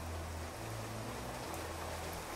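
Rain falls in the farming and survival video game Clanfolk as a steady, soft, even patter and hiss, faint and continuous with no voices.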